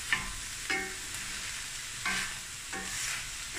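Minced meat sizzles in a pan with onions, chili and garlic, with a spoon scraping and stirring in a few distinct strokes over steady close frying.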